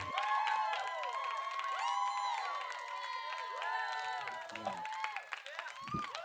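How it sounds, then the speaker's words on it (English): Crowd cheering and shouting erupts at a fantasy tabletop game event, a dense, sustained roar of many voices with whoops and a few claps, loud throughout and tapering slightly near the end. "followed by an eruption of cheers from the crowd"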